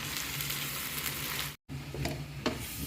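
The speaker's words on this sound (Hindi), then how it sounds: "हम इसको चम्मच हिलाते जा रहे हैं। इसको हल्का सा ब्राउन कर लेंगे हम।" Chicken white karahi sizzles and fries steadily in the pan while a spoon stirs it, with a brief break and a few louder scrapes and clinks of the spoon near the end.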